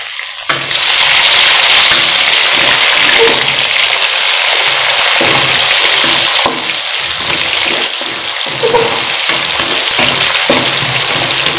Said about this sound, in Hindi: अब मैं इसमें टमाटर शामिल कर दूँगी